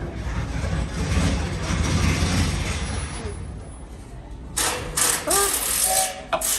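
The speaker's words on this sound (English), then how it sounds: "please remain fully seated as the train comes to a full and complete stop" A ride train at Magic Kingdom rumbles and clatters loudly up close as it slows and settles to a stop, with mechanical squeals and bursts of noise near the end, people talking faintly around it.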